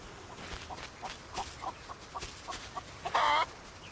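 A chicken clucks in the cozy building game Solarpunk, a series of short, soft clucks spaced through the moment ending in a brief louder squawk, with no talk over it.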